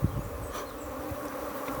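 Honey bees buzz steadily on a brood frame as they store nectar, a dense, continuous hum close by with no voices.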